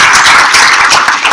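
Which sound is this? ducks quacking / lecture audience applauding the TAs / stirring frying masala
lecture audience applauding the TAs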